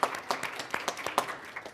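Scattered, moderately faint clapping from a small audience at a governing board candidate forum, individual claps distinct and uneven rather than a dense roar.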